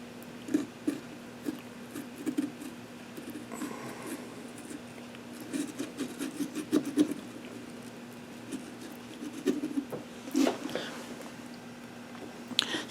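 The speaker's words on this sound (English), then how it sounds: "So you just insert your blade in here. And carefully saw" A knife blade saws carefully through a pumpkin with repeated short scraping, squelching strokes in an uneven rhythm, close and moderately quiet over a faint steady hum.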